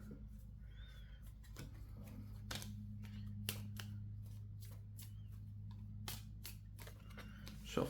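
Cards for the Villainous board game shuffled at a table during a tournament match, giving a series of quick crisp riffling snaps over a steady low background hum.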